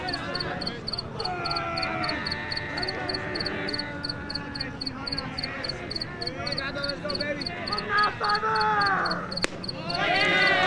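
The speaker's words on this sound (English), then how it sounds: "It sounds like the cricket is literally on the microphone." A cricket chirps in a rapid, steady pulsing trill very close to the microphone during a 5A high school baseball game between Casteel and Higley, running throughout over the announcer's talk and ambient crowd noise.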